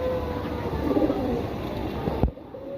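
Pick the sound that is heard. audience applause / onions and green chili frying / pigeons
pigeons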